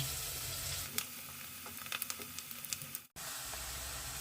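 Steady sizzling of onion frying in butter, a continuous bright hiss with small crackles and pops, briefly cut off near the end before resuming.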